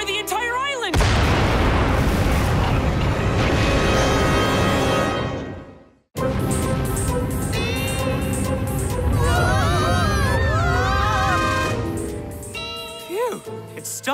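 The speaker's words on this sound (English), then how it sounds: "the rumbles are getting bigger, which means the big eruption is getting closer" Cartoon volcano eruption on an island, deep booming rumbles and blasts filling the scene, cutting off abruptly then resuming with rising lava, accompanied by a dramatic music score.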